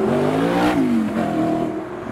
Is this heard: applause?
no